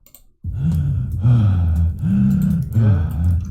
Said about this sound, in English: I'm just going to go find that heavy breathing cue